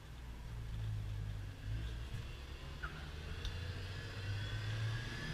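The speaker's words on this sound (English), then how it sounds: "But you know, it has that old truck sound." A 1971 Ford F250 truck is heard driving with a faint, continuous low engine rumble and a thin whine above it. It plays steadily throughout with no talking.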